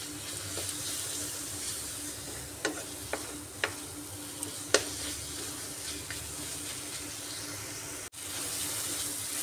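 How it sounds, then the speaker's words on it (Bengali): Spice masala stir-fried in a wok for an egg and masoor dal dish makes a steady bubbling sizzle, with a few sharp scraping clinks from stirring and a brief cut near the end. "এইভাবে মশলাটাকে ভালোভাবে কষিয়ে নিচ্ছি।"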